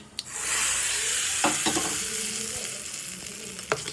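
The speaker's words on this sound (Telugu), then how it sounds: "ఇప్పుడు ఈ పోపుని చట్నీలోకి వేసుకుందాం" A sharp hiss as hot tempering of dried red chillies and curry leaves hits coconut chutney, settling into steady sizzling with a few clinks and stirring scrapes.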